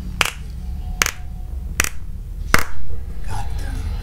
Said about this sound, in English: I think that deserves a slow clap.